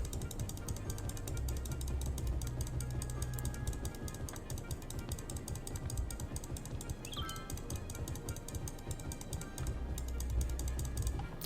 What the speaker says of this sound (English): You can hear me clicking this forest away.